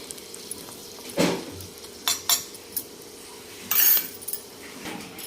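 A spoon scrapes and clinks in a pot off the stove while Kashmiri red chilli powder is mixed into dal tadka, a few sharp metallic taps and stirs over a faint sizzle.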